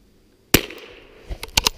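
.22 rifle fired outdoors in a snowstorm: a single sharp, loud crack after a brief silence, trailing into a short echo followed by a few quieter clicks and bumps.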